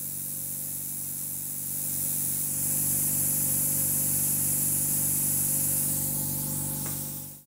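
Plasma cutter on a STAHLWERK CMA-416 ST 3-in-1 multifunction welder with a built-in brushless compressor, fired in open air. It gives a loud, steady, close hiss for about seven seconds, then cuts off abruptly.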